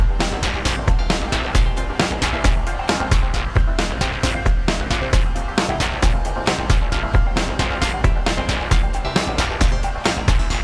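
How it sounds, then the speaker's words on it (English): A weird polyrhythmic melody played on a Moog Subharmonicon synthesizer, with dense, steady pulsing notes and interlocking rhythms repeating continuously at a loud, even level with no talking. "we just kind of built like a weird kind of polyrhythm melody,"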